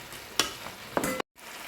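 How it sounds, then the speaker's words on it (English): Courgettes and crushed tomatoes stirred in a hot pan on a stove at power 8, giving two short scraping strokes over a steady low sizzle, close and fairly quiet. "right now we're just going to be stirring the courgettes and crushing the tomatoes"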